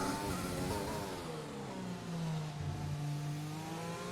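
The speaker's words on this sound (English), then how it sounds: "Now put the power down." Formula 1 car engine in F1 2020/2021 on the Russia circuit, a continuous high-pitched wail rising steadily as the car accelerates hard, close and loud with no pauses.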